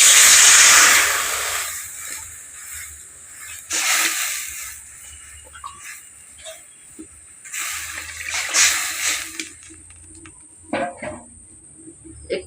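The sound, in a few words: water boiling in wok on clay stove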